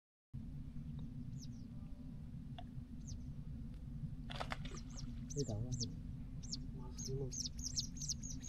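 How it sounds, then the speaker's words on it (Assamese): Assorted birds at Maguri Beel wetland in Assam give thin chirps and whistled calls, scattered at first and then coming in quick repeated bursts, heard at a moderate distance over a low steady rumble. "চাৰিওফালে চব বেলেগ বেলেগ চৰাই আছে ইয়াত"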